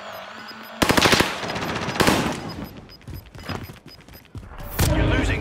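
Rapid automatic gunfire in Call of Duty Warzone on Rebirth Island, loud close bursts separated by short pauses, with thuds and crackling shots over background game noise.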